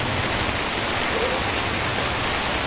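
Heavy rain pours steadily during a flood, a dense, continuous wash of drops that stays loud and even throughout with no other clear sounds.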